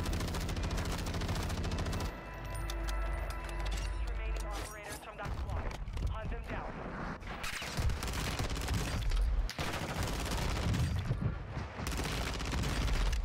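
Rapid automatic fire from a Tempus Razorback rifle in Warzone 2 crackles in loud, sustained bursts separated by brief pauses, close and harsh, with a player's voice mixed in.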